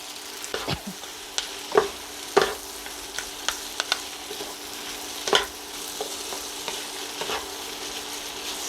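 Tomatoes and chili are stir-fried in a hot pan for Thai spaghetti with grilled pork, giving a steady close sizzle broken by irregular scraping stirs and light clacks of a utensil against the pan.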